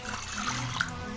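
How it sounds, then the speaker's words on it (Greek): Water pours steadily into a mixing bowl to start a dough for small cheese pies, a continuous close splashing gurgle lasting the whole short moment with no voices. "Χρειαζόμαστε ένα μπολ, 300 γραμμάρια νερό"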